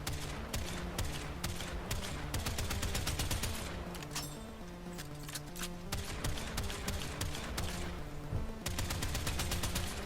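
In Warframe, weapons fire in dense rapid volleys that land in time with a loud musical beat, with sharp repeated shots layered over steady rhythmic music that plays throughout.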